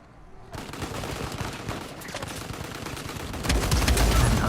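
Rapid gunfire bursts from the video game Uncharted 4, dense and continuous, with a louder volley near the end and no speech.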